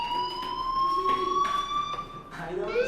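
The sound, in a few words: fire alarm ringing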